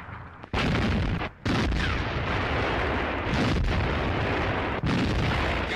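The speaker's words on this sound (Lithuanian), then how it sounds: "Artilerija apšaudo miestą." Artillery shelling the town of Jonava in 1941, with heavy booming blasts merging into a dense, continuous roar of explosions, loud and sustained with brief gaps between bursts.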